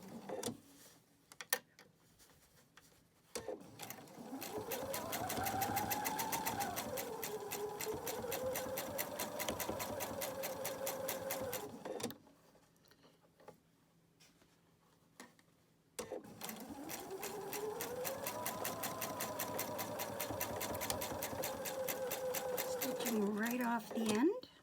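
A home sewing machine stitches a quarter-inch seam at a 2.0 stitch length on a Halloween foundation paper pieced kitty head block, running in two steady, loud whirring bursts separated by a quiet pause.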